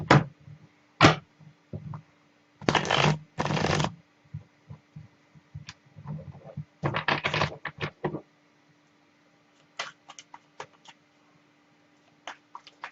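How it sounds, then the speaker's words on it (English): Tarot cards being shuffled in short bursts of riffling and flicking, with several brief clustered passes and scattered light taps between them, close and fairly quiet with no talk. "Let me shuffle the cards."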